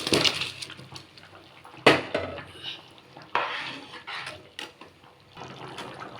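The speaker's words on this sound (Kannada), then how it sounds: "ಇವಾಗ ಅಕ್ಕಿ ಹಾಕೋಣ." Soaked rice is tipped into a metal cooking pot for vangi bath, with a scatter of clinks, scrapes and rattling pours in several separate bursts, close by and without talk.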